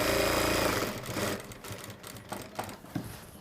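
An industrial sewing machine stitches a shirt collar and cuff, a loud steady mechanical whir for the first second that then slows into intermittent bursts and clicks, close up and without talk.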